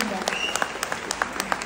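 An audience claps for doctors in one short, steady burst of applause with sharp individual claps popping out of the crowd noise at moderate distance.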